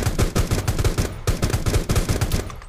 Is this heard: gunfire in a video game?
yes